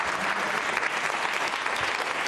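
Steady, dense clapping from a quiz show audience during a Ramadan quiz, holding evenly loud throughout with no voices.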